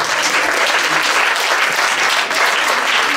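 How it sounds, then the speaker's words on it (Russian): Loud, dense audience applause filling a hall at an anniversary concert, a continuous roar of clapping from a large crowd with no pause. "аплодисменты."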